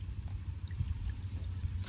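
Irrigation water flows through a cumin field during the first watering, a steady low gushing pour heard close by with no talk.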